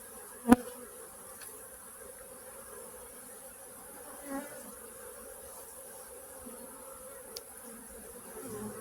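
Honey bees hum around an open hive being inspected, colony affected by chronic bee paralysis virus (CBPV), a steady low drone throughout with a sharp knock near the start and a few faint clicks.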